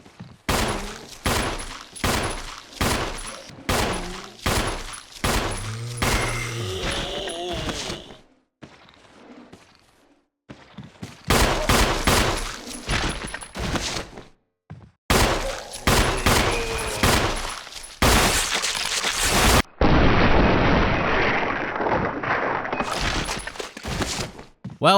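Handgun shots fire in Resident Evil REmake, loud sharp bursts in quick regular succession, broken by brief quiet gaps and heavier impact sounds.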